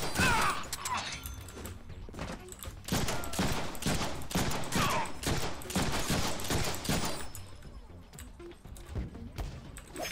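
Dense rapid gunfire from enemies shooting at the player in a Deadpool video game, a sustained fusillade of sharp cracks filling the whole stretch, loud and close, with a voice briefly talking underneath.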